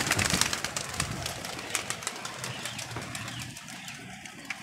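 A flock of pigeons gathers at scattered grain, wings flapping in repeated bursts with soft cooing, close and lively, the fluttering busiest at the start and continuing throughout.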